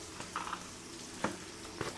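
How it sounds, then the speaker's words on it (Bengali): Onions frying in a pan for a spiced meat curry, a steady soft sizzle broken by a few sharper clinks of stirring, close and fairly quiet with no voices. "পেঁয়াজটা ভাজা হতে হতে"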